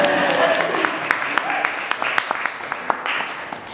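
Scattered audience clapping at a talk by an artist, with individual claps standing out over a steady room wash, moderately loud and fairly close.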